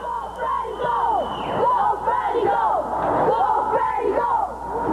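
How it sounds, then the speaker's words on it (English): A hockey arena crowd at a 1994 Markham tournament game cheers for the visiting Barrie team, with sustained whoops, yells and bellowing voices blending into a steady, loud roar throughout. "The host team Markham cheer on the visitors"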